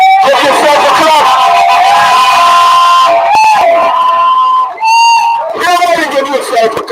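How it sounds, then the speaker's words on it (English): Loud rally crowd in Linden cheering and shouting, with a strong voice calling out over the noise before the crowd briefly drops and then surges again. "Give yourself a clap."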